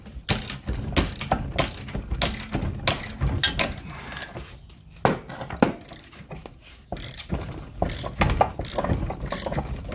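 A ratchet with a cheater pipe working a spindle bolt on a 1969 Mustang fastback, loud close repeated ratcheting clicks in bursts with metallic clanks and brief pauses.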